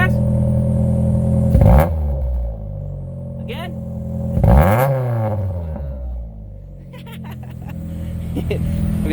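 Geo Metro (Suzuki Swift) fitted with a swapped 4A-GE engine on individual throttle bodies, revving in two sharp blips that climb and fall back to a lumpy idle, heard close by with people talking nearby.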